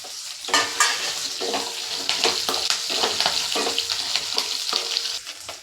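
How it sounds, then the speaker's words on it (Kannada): Shallots, garlic and curry leaves sizzle and crackle in hot oil in a pan for Udupi-style sambar, with steady frying hiss broken by repeated stirring scrapes, close and fairly loud, no talking. "ಸಾಂಬಾರು ಈರುಳ್ಳಿ ಹಾಕ್ಕೊಂಡು ಮತ್ತು ಬೆಳ್ಳುಳ್ಳಿ, ಕರಿಬೇವು ಎರಡು ಜೊತೆಲೇ ಹಾಕ್ಬಿಡಿ."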